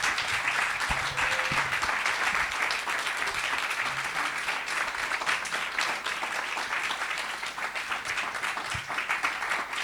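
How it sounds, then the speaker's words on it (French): A cinema audience applauds the director, Vincent, at a special screening, with steady, dense clapping that carries on for about ten seconds without a break. "je pense qu'on peut applaudir Vincent une dernière fois."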